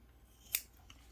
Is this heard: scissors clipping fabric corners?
yes